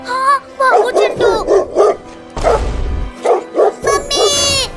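A dog barks in short, loud, close bursts, several quick barks in a row, mixed with excited voices talking over them.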